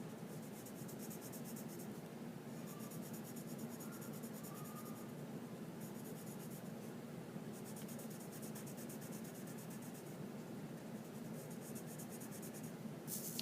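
Pencil shading on paper with the pencil held on its side: a soft, steady, faint scratchy rubbing that continues throughout, rising into slightly brighter bursts of strokes now and then, with no voices.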